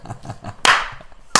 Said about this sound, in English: That clapping left a bunch of really cool spikes on the audio track